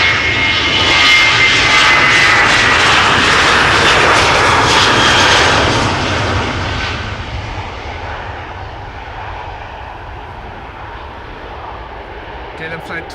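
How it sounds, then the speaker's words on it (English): KLM Boeing 737-800 jet departing Amsterdam Schiphol for Copenhagen, a loud, broad jet-engine roar that holds steady, then gradually fades as the aircraft draws away. "KLM flight 1269 to Copenhagen, 737-800 on its way."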